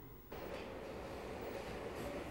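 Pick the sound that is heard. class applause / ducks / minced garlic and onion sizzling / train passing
train passing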